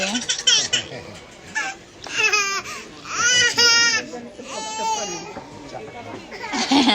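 A young child cries and shrieks through a tantrum in an IKEA store in Tokyo-Bay, Funabashi, with loud, rising and falling wails in repeated bursts, close by among shop noise.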